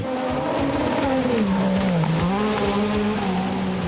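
An XC cross car at full throttle on a fast autocross track, engine note rising and dipping through the corners in a loud, continuous snarl, with no voices over it.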